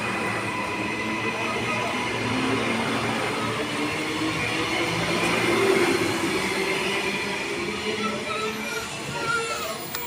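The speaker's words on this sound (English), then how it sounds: "Now the Varsity Lakes train is departing." A Varsity Lakes commuter train departs Helensvale station on the Gold Coast, a continuous rumble of wheels and motors with faint squealing, swelling slightly midway and staying fairly close throughout.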